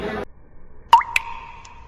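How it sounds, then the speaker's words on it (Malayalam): Rainwater leaks through the roof of the Palakkad civil station. After a brief voice, two distinct ringing plops fall a moment apart in a quiet room. "മൊത്തം ചോർന്നിട്ട് വെള്ളം ചോർന്നിട്ട് നടക്കുന്നവർക്കൊക്കെ ഭയങ്കര ബുദ്ധിമുട്ടാണ്"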